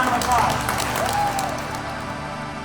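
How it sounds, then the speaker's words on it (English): Kids at a theater camp applaud, with a burst of scattered clapping mixed with excited voices that peaks early and then settles into a softer, sustained crowd noise. "everybody give yourself a round of applause"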